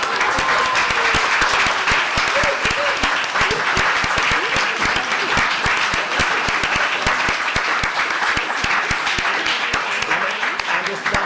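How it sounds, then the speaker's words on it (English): An audience at an LSE public panel event on digital cities gives the panellists a long round of dense, steady applause that stays loud and even throughout. "a round of applause for our panellists as well"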